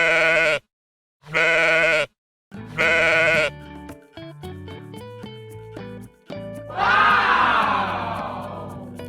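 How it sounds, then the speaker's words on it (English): Sheep bleating for a children's animal guessing game: three loud, wavering bleats in quick succession, then a softer musical passage and one final long, harsh bleat, clear and close. "It is a sheep."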